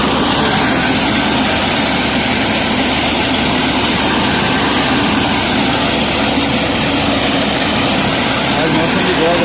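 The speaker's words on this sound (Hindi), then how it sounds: "हमारे एक ये ट्रैक्टर चल रहा है और एक सुपर वो चल रहा है।" A Massey Ferguson 240 tractor from 1986 runs steadily with a loud, continuous engine drone close by, a dense broadband rumble with no breaks over its whole length, while a voice talks faintly under it.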